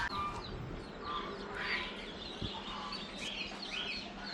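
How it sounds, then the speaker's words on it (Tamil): Ducks quacking in an animal enclosure at Batu Caves, Malaysia, mixed with other bird calls from chickens and birds, moderately distant and steady against a busy outdoor background. "இங்கே பாருங்கள், வாத்து"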